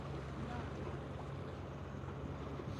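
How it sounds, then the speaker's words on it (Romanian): Faint, steady wind rushes with a low lapping of water and distant rumble, an even outdoor wash with no distinct events. "se aude ceva de la vânt, de la valuri"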